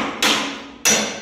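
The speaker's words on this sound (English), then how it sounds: "Gonna smack it, beat the hell out of it so we know it's gonna stay." A hammer strikes a freshly welded 4WD shifter bracket on a Dodge twice, two sharp, loud metallic clangs about half a second apart, each ringing out briefly, with no voices.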